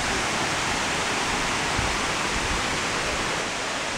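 A waterfall roars as a steady, dense hiss of falling water, loud and unbroken throughout, heard near a long stairway with no talking over it.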